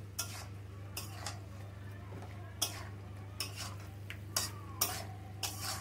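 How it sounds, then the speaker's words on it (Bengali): Broad beans and tomato are stirred in a pan, with a soft, continuous sizzle broken by sharp, irregular scrapes and clinks of the spoon against the metal every second or so. "এবার ভালো করে নাড়িয়ে দেবো।"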